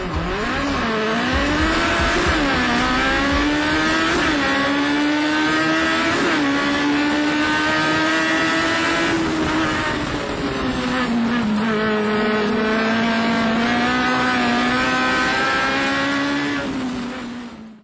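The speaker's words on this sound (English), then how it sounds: "Here's what a real Legends car looks and sounds like." A real Legends race car engine drones loud and close, its pitch rising and falling through gear changes and throttle lifts with a steady, rasping tone the whole way.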